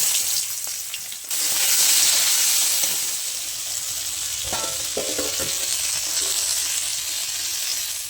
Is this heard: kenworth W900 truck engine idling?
no